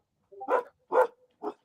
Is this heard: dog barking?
yes